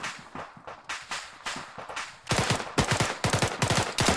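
Bursts of rifle and machine-gun fire in Arma 3, loud and close, with sparse single shots at first and then rapid automatic volleys crackling back to back, no voices.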